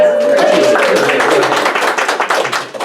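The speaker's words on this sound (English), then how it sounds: "How about an applause for that?" Small audience applause, quick loose clapping that begins under a voice and then continues on its own, close and moderately loud, thinning toward the end.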